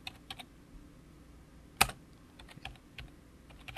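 Keys tapped on a computer keyboard while entering text for a DVD menu, a quick scatter of light clicks with one sharper, louder strike near the middle, close and quiet.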